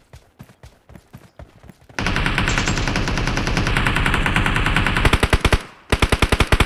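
Machine gun fire in a mobile shooter game, loud and close: short spaced bursts, then a long dense sustained volley, then more rapid separate shots.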